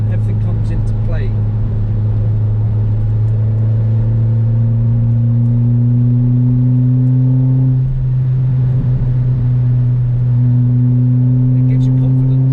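Tuned 190bhp Ford Fiesta ST500 driving through sweeping B-road corners: a loud, steady in-cabin engine drone with gently shifting pitch, briefly dipping around the middle before settling again.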